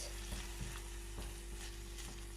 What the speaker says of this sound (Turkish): Şöyle karıştırıyorum.